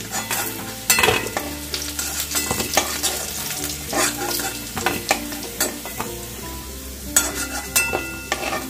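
Potatoes frying in oil until reddish for a Bengali prawn kaliya, with a steady sizzle under repeated stirring and scraping of a spatula against the pan, plus occasional clinks of utensils, close and fairly loud.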